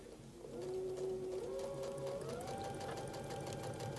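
A sewing machine runs steadily through a single quilt seam, its motor whirring with a rising pitch as it speeds up partway, close and continuous for about four seconds with no talk.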